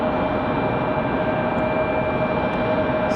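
A Delta jet airliner arriving from Atlanta at Raleigh-Durham airport gives off a steady, loud engine roar with a thin whine on top, continuous and close throughout.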